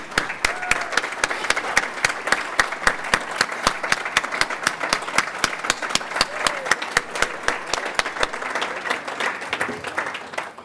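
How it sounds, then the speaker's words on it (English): A gala audience gives a sustained round of applause for hospital housekeeping staff, many hands clapping in a steady, dense patter that carries on for several seconds before easing off. "Can we give an extra round of applause and ask them to stand?"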